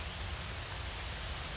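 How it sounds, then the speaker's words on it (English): Heavy rain falling in the video game Horizon Zero Dawn, a dense unbroken hiss of downpour that stays even and loud throughout. "Surely they can't see me in this rain,"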